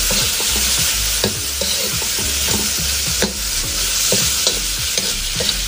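Spices such as turmeric and black pepper are stirred into vegetable momo filling in a pan, producing continuous close scraping and stirring over a steady sizzle, with no talking.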